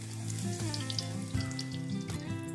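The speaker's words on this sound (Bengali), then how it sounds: "এরপর বেগুনের দু পিঠে ভালো করে বেসন মাখিয়ে গরম তেলে ছাড়তে হবে" Gram-flour-coated eggplant slices sizzle and crackle steadily in hot oil, a close, continuous frying hiss with small popping bursts throughout.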